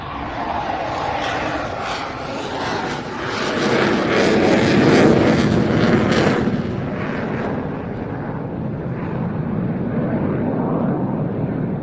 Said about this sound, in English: You'll notice he just powered the aircraft up and just pulled it away into the vertical